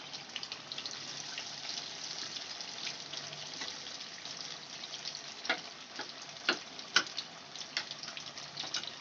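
Banana flower vadas fry in hot oil with a quiet, continuous sizzle broken by small sharp pops, heard alone without talking.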